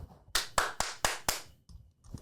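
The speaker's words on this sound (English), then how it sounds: "my own clap" Several sharp hand claps, loud and close, in a quick uneven series of five followed by two softer ones, made to sync audio with video.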